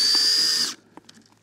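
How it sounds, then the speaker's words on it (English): A cordless power drill whirs steadily as it mixes fishing groundbait at a match on Todber Manor fishery, then cuts out abruptly, leaving faint handling noises. "Just drill this up a minute"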